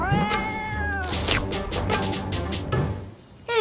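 A cat meows loudly and insistently several times in a row, drawn-out wailing cries close up with no talking.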